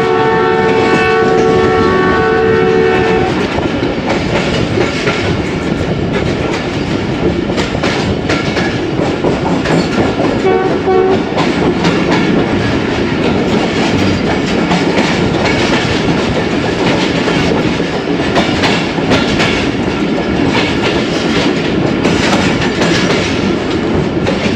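A Ravi Express passenger train running on rails, loud and continuous from on board, with a steady rumble and rattle of the carriages and a brief horn tone near the start.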